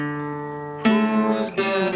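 Blues slide-style guitar in a John the Revelator lesson: a sustained note, then a sharp pick attack and a quick pull-off to a lower note, close and clear with no talking.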